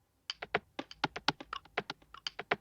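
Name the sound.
percussion loop from Ty Leon's drum kit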